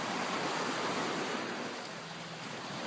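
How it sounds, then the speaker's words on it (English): Ocean surf washes onto a warm beach in a steady, close roar of breaking waves with some wind noise across the microphone, lasting the full few seconds without any talk. "The ocean's amazing."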